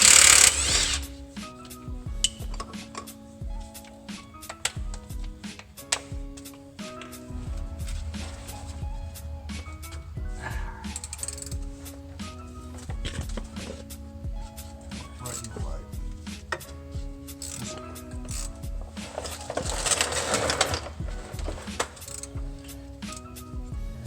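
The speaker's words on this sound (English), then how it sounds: "we're going to take loose these 3 bolts that are holding" Bolts loosened with a ratchet on the transmission mount of a 2001 Dodge Ram 1500, repeated metallic clicks and clinks in short bursts, close up, with faint talk at times.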